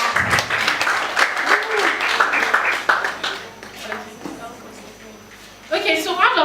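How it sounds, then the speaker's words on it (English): A church congregation claps in welcome for Sister Twain, a burst of clapping mixed with voices that fades after a few seconds, then a speaker talks again. "Please clap for Sister Twain."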